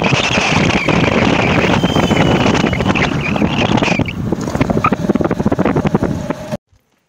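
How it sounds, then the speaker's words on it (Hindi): Riding a motorbike outdoors, with heavy wind buffeting the microphone and a steady engine drone throughout, loud and close, ending abruptly. "बाइक से जा रहे हैं हम लोग"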